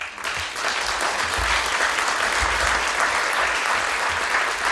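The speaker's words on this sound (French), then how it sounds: "Les applaudissements que vous venez d'entendre" Steady, dense audience applause fills a hall at the opening of a conference, many hands clapping evenly and fairly loud with occasional low thumps, and no voices over it.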